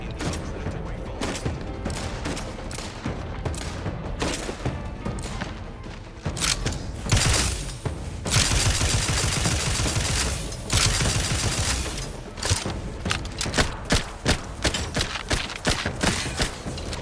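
Artillery fire from an artillery crab in The Outer Worlds 2 video game: dense, repeated thumping blasts and crackling gunfire, loud and close, swelling into heavier bursts midway, then resolving into a rapid rhythmic barrage toward the end.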